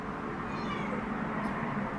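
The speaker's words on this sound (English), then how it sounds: "That's my cat." A cat meows faintly a few times against a steady, loud wash of background noise, with no one speaking.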